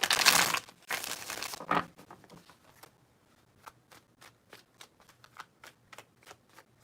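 Tarot cards riffled in a loud, dense burst for about two seconds, then tapped and squared in a string of quiet, separate snaps; no voices.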